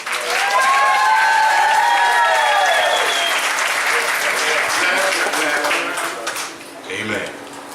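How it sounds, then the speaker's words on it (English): Loud, steady applause from a crowd fills the room, with a voice speaking over the clapping near the start before it thins out toward the end. "Let's give him another great big round of applause."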